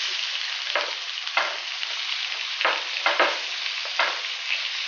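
Tomatoes added to onions frying in a pan, with no extra oil, making a steady close sizzle and fry hiss broken by several short scraping stirs of a spatula.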